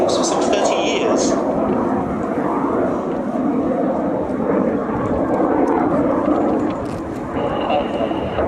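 Jet Provost Mark III aircraft flying at the Cotswold Airshow 2010, a steady, loud jet roar sustained throughout with a commentator's voice over the public address and outdoor crowd ambience.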